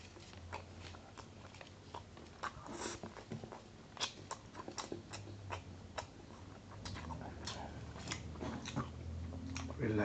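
Chinese fried rice with char siu pork being chewed close up, with quiet, rhythmic wet clicks and bites repeating steadily and no talking.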